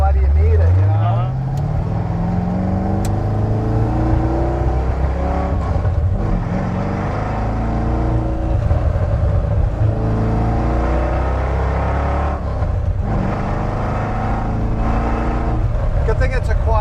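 A red Ford Mustang's engine drones loudly and steadily from inside the cabin while driving, its pitch rising through the gears, with people talking over it.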